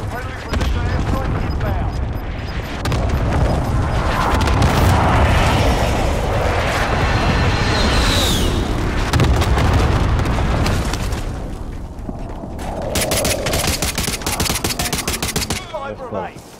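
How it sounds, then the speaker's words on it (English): Airstrike explosions in Call of Duty: Modern Warfare land amid sustained gunfire, a dense roaring barrage of booms and rattling shots filling the whole stretch at close range, with game voices talking over the din. "Be advised, friendly position airstrike"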